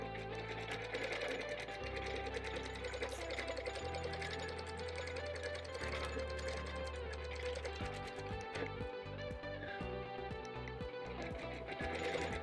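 A sewing machine quilts stitch-in-the-ditch along the seams of a bird panel quilt, its needle chattering in a steady rapid rhythm whose motor pitch shifts in stepped stages, close and alone with no talking.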